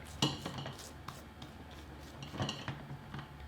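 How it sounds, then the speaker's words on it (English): A utensil scraping and clinking against the sides of a mixing bowl of pumpkin cookie dough, soft intermittent taps and scrapes, faint and close with no talking. "just give the sides of the bowl a good scrape"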